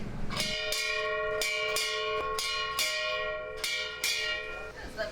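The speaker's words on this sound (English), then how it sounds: "once that dive bell rings, we'll be blowing bubbles again today" A dive bell on a dive boat in the British Virgin Islands rings in a steady series of about seven loud, metallic strikes, each ringing on briefly, with faint voices in the background.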